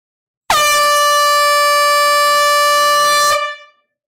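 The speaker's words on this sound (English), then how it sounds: "Let's go ahead and bring out the air horn." A single long, loud air horn blast sounding steadily for about three seconds, then cutting off with a brief fading tail.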